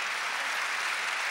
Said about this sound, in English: You can see the different contingencies cheering their people on, their athletes on, giving them encouragement.